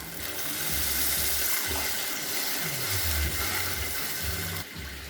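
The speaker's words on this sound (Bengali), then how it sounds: "এবার আমি উষ্ণ গরম জল দিয়ে দেবো।" Warm water goes into spice paste frying in a pan, giving a loud, continuous close sizzle and bubbling hiss that eases near the end.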